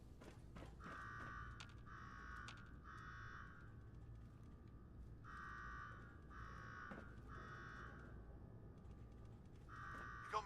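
Alarm in the Fallout 4 video game blaring in repeated pulsing bursts, each a buzzing tone lasting about a second, sounding in irregular groups against a low mechanical background hum, fairly faint and distant.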